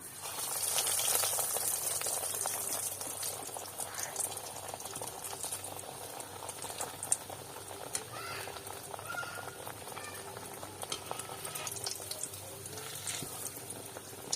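Pocket aval snacks deep-frying in hot oil, a steady bubbling sizzle that holds at an even level throughout with faint rattles, close and continuous with no talking.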